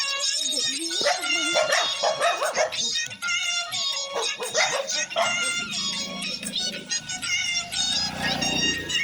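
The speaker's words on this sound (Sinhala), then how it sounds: "මගේ යාළුවෝ ටික බුරනවා මට ඇහෙනවා" Several dogs bark, yip and whimper close by in repeated bursts that overlap one another, fairly loud throughout with no speech.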